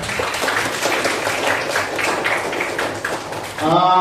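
Classroom students applauding in a religious studies lesson, a dense patter of clapping from a group, moderately loud and fairly even, ending with a short burst of a different tonal sound.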